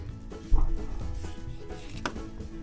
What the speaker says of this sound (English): We're just cutting right in the thigh area and along the back.